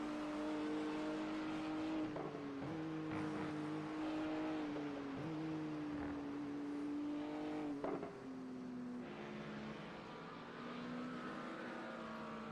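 GT3 race car engines roar steadily in a sim racing endurance race, the sustained drone shifting pitch as cars accelerate and change gear, with a sharp transient near the eight-second mark.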